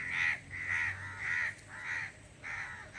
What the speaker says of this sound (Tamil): காக்கா